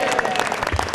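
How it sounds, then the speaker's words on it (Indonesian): A live audience at a motivational talk breaks into applause and cheering, a dense, loud burst of clapping and voices lasting under a second. "Kasih tepuk tangan dong"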